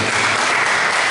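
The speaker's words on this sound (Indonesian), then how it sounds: "Yang setuju beri tepuk tangan kepada Tuhan." A church congregation applauds, a loud and steady wash of many hands clapping at once that stays even for just over a second, with no voices over it.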